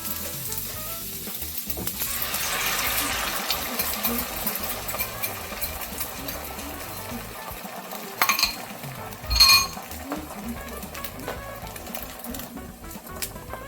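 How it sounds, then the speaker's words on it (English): Four eggs hit a hot pan with onion and sizzle steadily, a constant close frying crackle with a couple of brief clinks of a utensil against the pan. "I'll go into the pan with 4 eggs."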